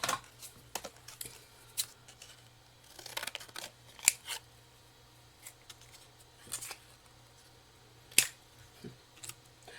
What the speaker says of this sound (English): I'll go ahead and cut another hat.